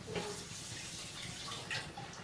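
Water poured into a pot of boiling curry, a short close splashing pour with a couple of brief bursts, without speech.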